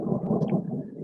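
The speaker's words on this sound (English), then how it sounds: "Oh, do you hear that thunder?" A low rumble of thunder from a summer monsoon storm in the Southwest rolls briefly and deeply, heavy and close, lasting about a second.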